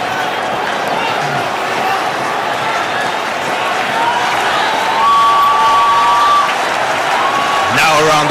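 Dense stadium crowd roaring and cheering at a T20 World Cup cricket match between India and England, a sustained loud wash of voices and applause swelling near the end.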